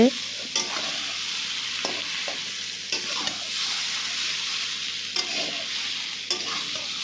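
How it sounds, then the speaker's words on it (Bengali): Potatoes and soybean chunks fry with spices in a pan, giving a steady, loud sizzle with occasional scrapes and stirring knocks, and no voices. "বন্ধুরা দেখো আলু সয়াবিন মশলার সাথে একসাথে ভালো করে কষানো হয়েছে"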